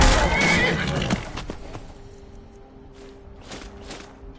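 Horses neighing in the video game Skyrim, a loud whinny at the start that fades, followed by sparse clip-clop hoofbeats and a few soft thumps, quieter toward the end.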